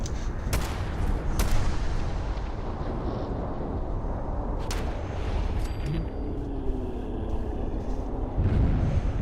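Gunshots from a companion named Ada in a wasteland survival game, several sharp cracks scattered over a constant loud windy roar, some shots standing out clearly while others blur into the background noise.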